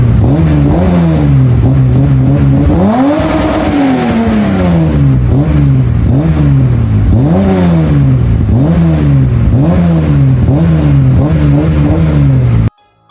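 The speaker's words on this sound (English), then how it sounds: "This car also has a new full custom exhaust system front to back, and we're going to give you guys a little listen to what that sounds like shortly." A BMW E30 325is with an M20B25 engine and a full custom exhaust revs hard and loud, with a string of rising and falling blips at a steady rhythm, heard close and alone.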